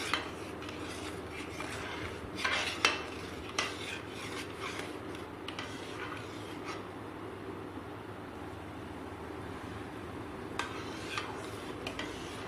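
Spoon stirring halwa with milk in a pan, soft continuous scraping and occasional light metallic clinks against the pan, faint and close with no talking.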